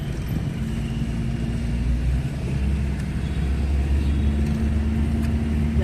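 Busy town street in Pattani, Thailand, with steady traffic noise from passing cars and motor vehicles, a continuous close rumble of engines that swells slightly in the second half.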